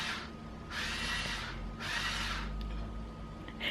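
Power drill driving into a wall while shelves go up indoors, in three bursts of a few seconds each, heard quietly from another room with no talking.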